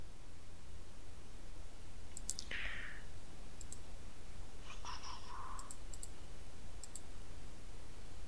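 Computer mouse clicks at a desk, a few sharp, quiet ticks spaced out over several seconds, with soft faint murmurs between them.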